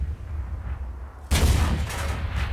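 A tank's main gun fires once in a video game, a sudden loud blast breaking a low engine rumble and rolling into a sustained boom with no talk.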